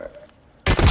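A grenade in the Call of Duty Resurgence video game bursts with a sudden, loud, close boom after a near-silent moment, its rumble carrying to the end.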